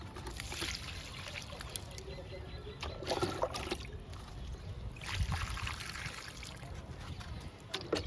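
Liquid plant tonic is poured and trickles onto potted lily plants outdoors, a soft continuous splashing dribble with a few louder gushes over a steady background hiss.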